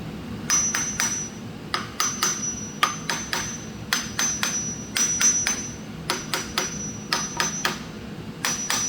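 Sharp metallic hammer taps on a metal part ring out close by in quick bursts of two to four strikes, each hit leaving a brief bright ring, no talking.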